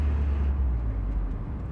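NA Miata four-cylinder engine and exhaust with resonator delete, a deep steady low rumble from inside the moving car, fairly loud at first and easing slightly, with no talking.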